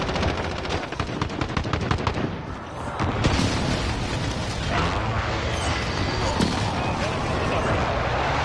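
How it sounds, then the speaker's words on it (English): Constant loud combat in a Modern Warfare match: heavy gunfire and rumbling blasts from an incoming airstrike roll on without a break, with voices talking over the din. "Allies received an airstrike incoming."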